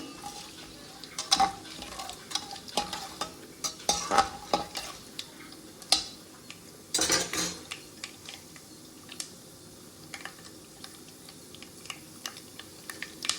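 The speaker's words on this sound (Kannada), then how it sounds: "ಗೋಡಂಬಿ ಒಂಚೂರು ಫ್ರೈ ಆಗಲಿ" Cashews frying in a pan for vangi bath, a soft sizzle running throughout with scattered clinks and scrapes of a spoon stirring against the metal, close and moderately loud with no talking.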